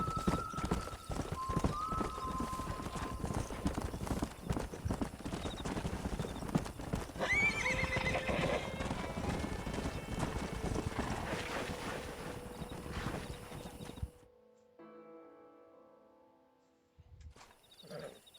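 Horse in the Red Dead Redemption video game, hooves clip-clopping in a steady run with a clear neigh partway through, loud and close over a busy outdoor ambience that drops off abruptly near the end.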